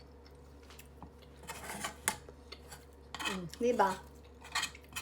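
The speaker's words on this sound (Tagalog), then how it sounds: "Sisimutin muna namin yung kawali bago namin hugasan." Metal spoon scraping leftover maja blanca, a coconut and corn pudding, out of a frying pan before washing, heard close up as irregular scrapes and clinks that grow busier toward the end, with a brief spoken word.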